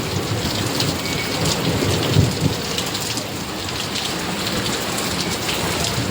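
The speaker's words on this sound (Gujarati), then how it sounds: "સારું વરસાદ ચાલુ થઈ ગયો" Heavy rain pours down in a dense, continuous hiss, with deep thunder rumbling underneath and swelling briefly midway. No one speaks.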